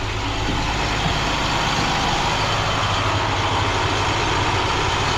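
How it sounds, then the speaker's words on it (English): A bus with a MaxxForce diesel engine idles steadily and smoothly, a loud, continuous low rumble with no talk over it. "That engine's actually running really smoothly for a Max Force."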